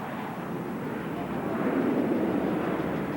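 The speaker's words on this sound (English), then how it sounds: "In order to demonstrate the dirty slow-speed handling characteristics of these McDonnell Douglas F-18s, Captain Wooldridge has called for the extension of the landing gear" Low, steady jet roar from McDonnell Douglas F-18s making a slow, low-speed pass with landing gear and tailhooks down at an airshow, a broad rumble swelling slightly midway, with a voice talking over it.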